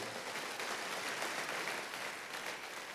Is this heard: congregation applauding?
yes